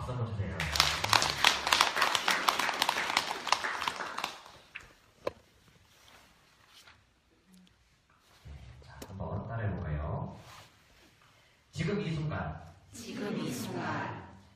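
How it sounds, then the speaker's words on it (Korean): An audience gives a burst of dense, lively applause lasting several seconds, then it stops and someone speaks calmly over quiet room sound. "맞으면 박수 한번 주세요."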